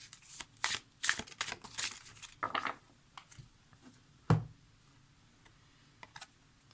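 Archangel oracle cards are shuffled by hand in quiet, brief bursts of soft riffling and flicking, followed by a few scattered taps and one sharper knock, with no talking.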